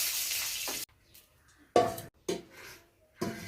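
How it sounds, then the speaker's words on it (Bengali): Cumin, dried red chillies and bay leaf hit hot oil in a kadai, giving short loud sizzling bursts that fade between gaps of near silence. "তেল দিয়ে দেবো কড়াইয়ে, জিরে, শুকনো লঙ্কা, এখানে তেজপাতা দিয়ে দেবো।"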